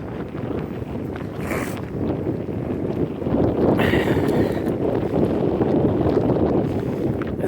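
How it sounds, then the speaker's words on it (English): Gusty wind buffets an outdoor microphone, making a rough, continuous roar that swells into a stronger gust about halfway through and stays loud to the end. "another wind gust. Yeah, it's gusty today"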